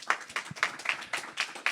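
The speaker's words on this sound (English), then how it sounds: "I want to give them a round of applause." A small audience at an investor summit claps for sponsors, giving a short run of evenly spaced, fairly quiet handclaps with little else around them.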